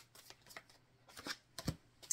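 Tarot cards being shuffled in a quiet room, giving a run of soft riffling bursts in uneven rhythm, close and fairly faint, with no talking.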